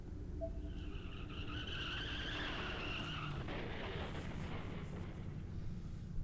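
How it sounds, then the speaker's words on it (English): A car skids into an accident right outside a door, with tonal tire screeches for the first few seconds over a dense low rumble that turns into a broad noisy crash and rush, loud and fairly close, with no talk. "Then there was an oddly familiar sound, another car accident."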